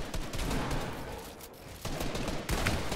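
Dense, continuous SMG gunfire in a Fortnite arena match, rapid bursts filling the whole moment with a brief dip in the middle, loud and close with no talk.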